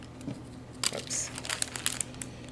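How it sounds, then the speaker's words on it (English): A plastic bag is handled up close in a lab setup before being burned, giving bursts of sharp crinkling and rustling with a brief pause between them, while a voice speaks faintly underneath. "I'm going to burn a plastic bag"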